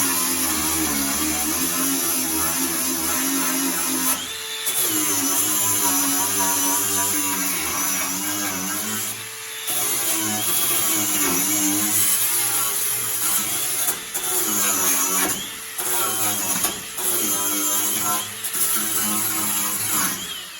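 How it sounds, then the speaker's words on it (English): An angle grinder grinds down welds on a Mercedes Sprinter side door, a loud continuous high whine with brief dips where the disc lifts off the metal, running for about twenty seconds. "So you've just seen me grinding welds down"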